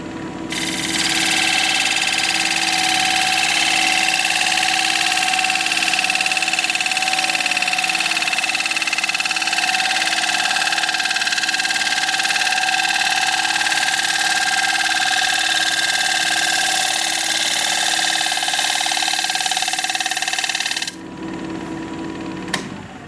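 Wood lathe spinning a thin cedar bowl at about 1100 RPM on a final cutting pass, a loud steady motor whine with a tonal hum, continuous for about twenty seconds before winding down.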